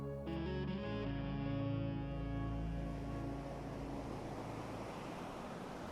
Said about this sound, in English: listen to the sound of the waves, the wind, and my breath